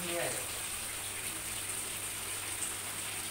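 Rainwater leaks into a house near a ceiling fan, making a steady, broad rushing and pattering water noise throughout. A voice and faint sounds are heard briefly at the start.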